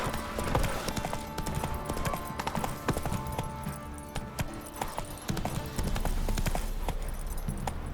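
Geralt's horse Roach trotting in The Witcher 3: Wild Hunt on PS5, steady clip-clop hoofbeats carrying throughout over layered game music and ambience.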